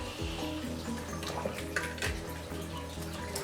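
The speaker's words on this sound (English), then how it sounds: "So after that, you put this water." Water pours steadily into a pot for a few seconds, a continuous rushing splash over a low background hum.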